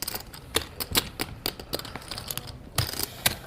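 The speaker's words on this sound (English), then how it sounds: "It feels weird shuffling chips." Stacks of clay poker chips are riffled at a high-stakes poker table, producing rapid, close clicking and clacking in quick irregular bursts, with a soft murmur of room background.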